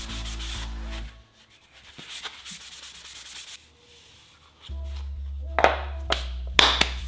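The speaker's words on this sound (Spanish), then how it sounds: "ya lo podemos lijar, hay que lijar la imprimación siempre" Steady rhythmic rubbing of a sponge sanding primer on car parts, in several strokes separated by pauses, with a few light taps near the end.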